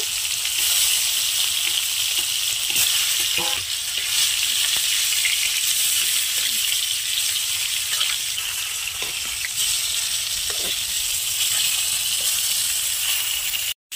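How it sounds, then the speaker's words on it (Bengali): Fish pieces frying in hot oil in a pan for a fish curry, giving a loud, continuous close-up sizzle and crackle throughout, with a few faint clinks and no talking. "তেলটা গরম হয়ে গেছে, এবার আমি একে একে মাছের পিসগুলো দিয়ে দেবো, দিয়ে আমি ভেজে নেব।"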